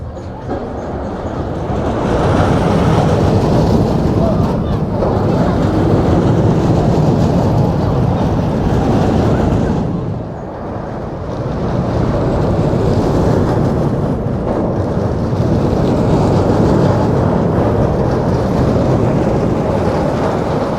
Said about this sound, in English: this coaster's traveled around a lot. It's an old one, but that means it deserves to be ridden.